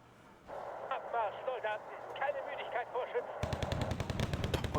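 Grenade launcher fire rattles in a multiplayer war video game as rapid, sharp bursts of booming shots close up, coming after a stretch of radio-like voice chatter.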